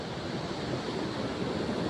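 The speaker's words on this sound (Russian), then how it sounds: "Море бушует," Stormy sea surf breaking on the shore in rain at Otradnoe near Yalta, Crimea, a dense continuous roar of churning waves with wind noise, loud and unbroken with no voices.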